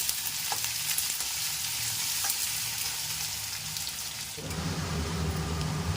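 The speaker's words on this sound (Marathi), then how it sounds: "आणि शेवटी कांदा घालणार आहोत. हे छान परतून घ्यायचं आहे." Chopped onion sautés in hot oil in a pan for Schezwan chutney, giving a steady, close crackling sizzle with occasional stirring that grows louder and fuller near the end.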